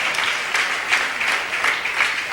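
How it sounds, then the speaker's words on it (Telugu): A church congregation claps loudly together in dense, sustained applause with rhythmic surges, close and filling the space. "చప్పట్లు కొట్టండి గట్టిగా"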